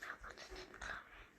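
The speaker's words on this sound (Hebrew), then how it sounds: "יש כלבים" A dog makes soft, close, breathy vocal sounds in short bursts, somewhat like quiet whines or huffs, at low volume.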